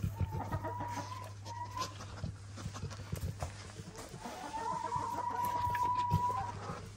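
Chickens cluck and call in a busy outdoor yard, with a steady low hum underneath and occasional rustling and footsteps nearby.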